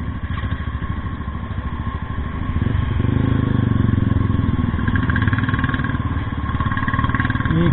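Several motorcycles idle together before a group Independence Day ride, a steady, close mechanical rumble that swells slightly in the middle and holds without any talk over it.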